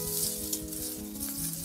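Chopped onion fries over high heat in a pan for a Chinese-style cabbage dish, giving a loud, continuous close-up sizzle with light stirring throughout.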